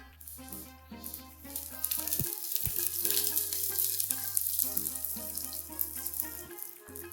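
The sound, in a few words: mustard seeds and spices sizzling in hot oil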